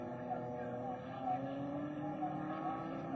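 Race cars at the 1963 Australian Grand Prix running nose to tail through a corner, a steady engine drone with rising and falling pitch, heard at moderate distance with a commentator talking over it.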